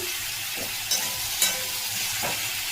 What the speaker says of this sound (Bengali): কচুটা পাঁচফোড়ন তেজপাতা ফোড়ন দিয়ে আমি একটু কষিয়ে নিচ্ছি লবণ দিয়ে